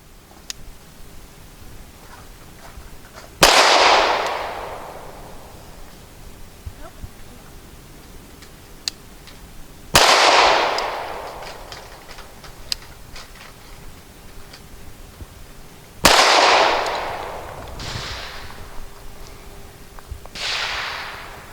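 A Walther P99AS pistol fires steel-cased ammunition, four sharp shots spaced several seconds apart, each with a ringing decay, from a gun left uncleaned for a couple of years.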